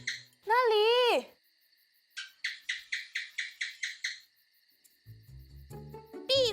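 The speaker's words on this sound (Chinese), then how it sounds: "壁虎的叫声竟然是这样的呀！" A gecko calls in a forest with a rapid series of about ten sharp, evenly spaced chirps, preceded by a loud warbling squawk and followed by low rumbling noise.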